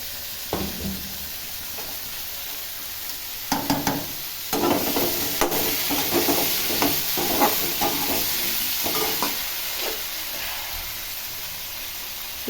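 Ridge gourd, pumpkin and potato frying in oil in a pan, a continuous sizzle broken by bursts of scraping and stirring from a spatula, close and alone.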